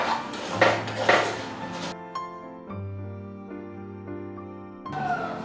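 A spoon scrapes and knocks against a pan while sabudana flour is stirred in ghee: a few rough scraping strokes, then ringing metallic clinks and a sustained tone, close and with no voices.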